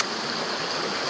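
A river near Grand Marais, Minnesota rushes steadily over rocks, a dense, continuous hiss of flowing water, close and loud with no voices.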